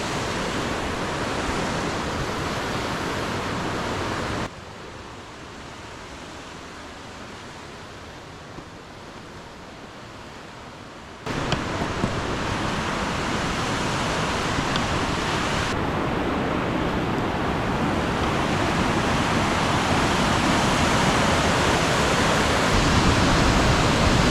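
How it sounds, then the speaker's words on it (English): A glacier-fed river near Eklutna Lake, Alaska, rushes in a dense, steady roar, with loud broadband flow that dips to a softer level for several seconds midway before surging back up, no voices. "The river running down from the glacier."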